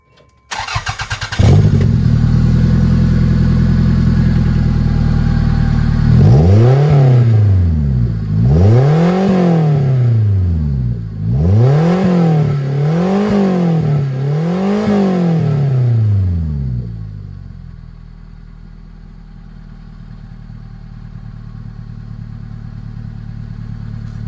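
A Toyota MR2 with its exhaust silencer removed cranks and fires up, then settles into a loud, deep idle broken by a run of about five sharp revs that rise and fall before easing back to a steady rumble.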